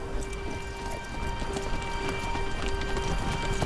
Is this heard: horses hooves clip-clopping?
yes